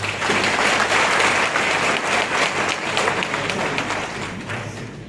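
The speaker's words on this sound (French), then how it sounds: "je vous demanderai d'applaudir nos professeurs" Sustained applause from an audience at a higher-education certification ceremony honouring teachers, a full steady roar of many hands clapping without a break, fairly loud and even throughout.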